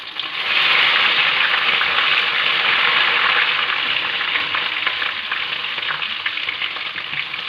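Ginger-garlic paste frying in hot oil for restaurant-style dal fry, an intense steady sizzle with stirring scrapes, close up and uninterrupted by talk.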